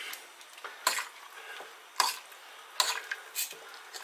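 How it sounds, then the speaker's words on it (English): Pulled lamb is stirred into stock in a pot, with scraping and clinking spoon strokes in irregular bursts over a soft wet sizzle, close and moderately loud. "we're ready to put the pulled lamb into the stock. Get it all in and get it stirred up"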